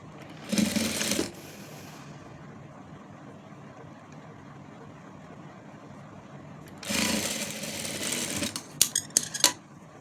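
Sewing machine stitching a simple frock, with two loud bursts of whirring stitching separated by a quieter pause and a few brief clicks near the end.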